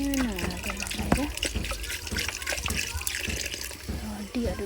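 Water is poured into a cooking pot of pig's trotter pickle before boiling, a splashing trickle with drips and gurgles, with a voice nearby.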